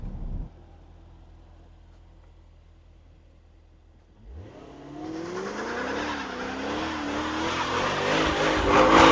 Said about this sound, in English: when you drive it in a sporty manner, and you're using more throttle, and you're using more brakes